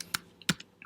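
An Excel formula being entered on a computer keyboard, heard as two or three sharp, close keystrokes spaced out over under a second, with no voices.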